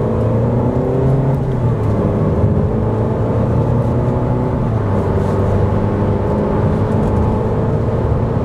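Compact SUV, one of a Citroën C4 Cactus, Volkswagen T-Cross or Renault Captur, accelerating on rough, poorly surfaced asphalt, heard from inside as a loud steady engine drone with road rumble and whir, no talking.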